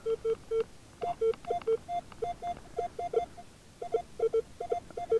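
A metal detector gives its signal while sweeping over a silver cross with enamel: a choppy run of short, broken electronic beeps at two pitches, stuttering irregularly and close by, with no speech.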